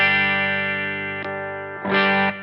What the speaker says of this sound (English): I could go to the metal humbucker and kind of revoice this to be a metal sounding humbucker